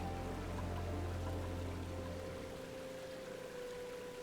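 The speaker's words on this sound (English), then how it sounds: "It's nice that magma has the same flowing sound as water." Magma in a video game gives off a smooth, steady, water-like flowing rush, continuous and fairly soft, with no one talking.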